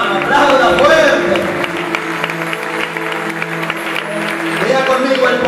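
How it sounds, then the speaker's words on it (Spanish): Church congregation applauding during a testimony service, a loud crowd of clapping with voices and speech layered over it. "aplauda fuerte"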